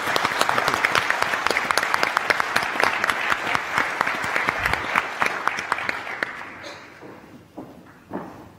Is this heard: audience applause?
yes